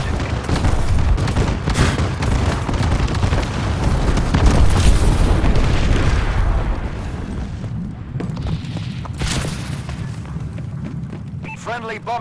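Bombing run explosions in the video game Call of Duty: Advanced Warfare, a loud continuous rumble of booms and blasts rolling for several seconds, with a radio voice and game effects over it near the end.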